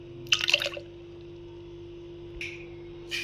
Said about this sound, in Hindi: दूध हम 1 गिलास डालेंगे।